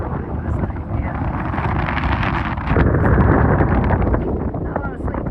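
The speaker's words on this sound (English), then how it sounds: "Very windy." Strong wind buffets a sailboat riding at anchor in the Exuma cays, a steady loud roar across the whole stretch that swells slightly louder midway, with rigging and water noise blended in.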